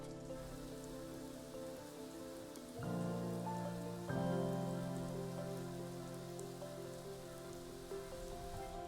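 Steady rain falling in the video game Prehistoric Kingdom, a soft continuous hiss of drops on surfaces with faint layered ambient tones underneath, quiet and unbroken with no talking.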